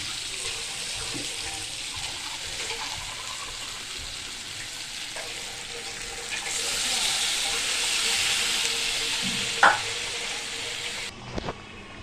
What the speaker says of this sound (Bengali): আলু মশলা দুটোই কষে গেছে, তেল পুরো ছেড়ে দিয়েছে। এবার জল ঢেলে দেবো।